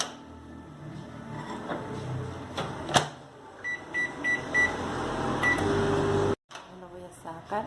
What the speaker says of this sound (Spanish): Ahora el microondas